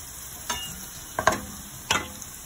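Traditional Bangladeshi Sylheti-style potato fries sizzle in hot oil with a constant hiss, broken by a few sharp scrapes or clinks from stirring spaced about a second apart.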